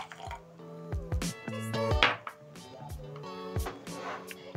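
Sugar and hot water go into a glass jar at home for whipped coffee, with small clinks of a spoon against glass, a dribble of pouring liquid and a few soft taps.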